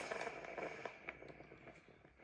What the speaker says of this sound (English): Now it will use a little bit steam.